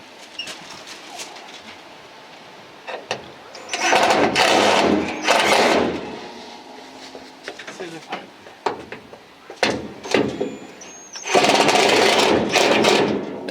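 Loud bursts of a power drill driving bolts to install hood braces on a GMC C15 pickup, whirring in short runs, several separate pulls spread over the span, with quieter shop noise and handling sounds between them.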